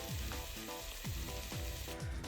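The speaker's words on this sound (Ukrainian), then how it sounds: "Це смажимо хвилин 3-4" Steady sizzling from a frying pan of mushrooms and spices fills the clip, with a faint rhythmic scraping or ticking repeating underneath; no voices.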